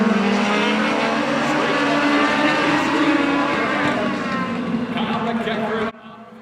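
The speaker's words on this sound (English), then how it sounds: "Very tidy, competitive field of 9 Legends cars here to take the first heat" A pack of Legends race cars roars past on the Oyster Bed Speedway oval, loud buzzing engines layered and sustained before cutting off abruptly near the end, with a voice talking underneath.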